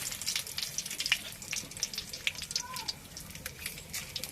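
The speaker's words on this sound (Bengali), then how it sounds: "এবার আমি শুকনো লঙ্কা ফোড়ন দেবো তেজপাতা ফোড়ন দিলাম" Dried red chillies and bay leaves crackle and sizzle in hot oil, a steady close spattering hiss with small pops throughout.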